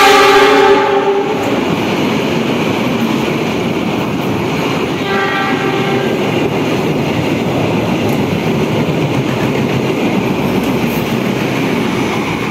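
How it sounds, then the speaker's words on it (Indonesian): The Argo Parahyangan train passes through a station, opening with a brief horn blast before a loud, steady roar of wheels and carriages rumbles on continuously, close by. "Dua dari barat melintas Argo Parayangan."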